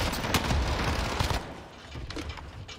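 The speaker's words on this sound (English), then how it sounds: "That LMG fried, no recoil." LMG machine gun in Warzone Rebirth rattling off dense, rapid automatic bursts, loud and close for the first second and a half, then easing into quieter, more scattered shots.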